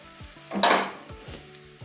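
Potatoes frying in a pan for a cauliflower and egg curry, a close sizzle swelling briefly as they are stirred, with light clinks of a utensil.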